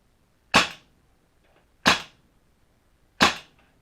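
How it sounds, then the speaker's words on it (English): Three single shots from an MP7 gas blowback airsoft gun, each a sharp, crisp snap about a second and a half apart, close and clear against near silence. "I'm going to start off with a couple of single shots."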